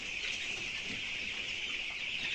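Chickens on a poultry farm at night, a steady close murmur of many birds with a constant high-pitched chorus and no clear individual calls.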